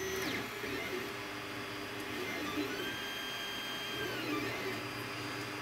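3D printer laying down its first layer, a close steady mechanical hum with gliding stepper-motor whines that rise and fall as the print head moves.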